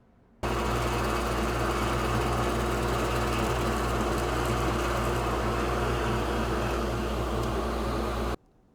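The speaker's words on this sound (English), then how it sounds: "So let's drill a test hole." A power drill bores a test hole for a binary clock build, giving a continuous, loud, close whine for about eight seconds before stopping abruptly, with no voices.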